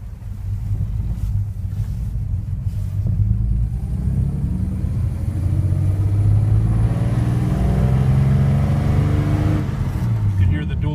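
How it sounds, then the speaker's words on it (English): A 1949 Chevrolet Fleetline with dual exhaust rumbles low and steady while driving, the engine drone rising and falling with wind buffeting the microphone and a voice talking over it. "You can hear the dual exhaust sounds really good."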